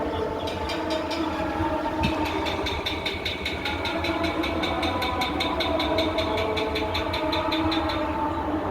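Trains idling at Santragachi Junction, a railway station under construction, a steady low engine drone with a rapid series of metallic clicks and rattles layered over it.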